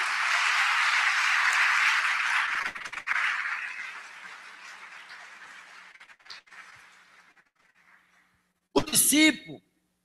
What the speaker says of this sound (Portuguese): Se você crê, dê umas palmas ao Senhor